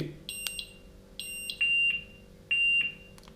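A Somfy home alarm system beeps electronically in a repeating pattern: short high tones, then two longer sustained beeps, clear and fairly close with a low hum beneath.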